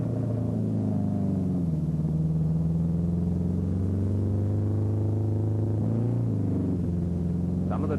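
Racing cars at the 1970 BOAC 1000 circuit event, a continuous low engine rumble with a drawn-out drone that shifts pitch slightly as the cars run, steady and fairly loud throughout.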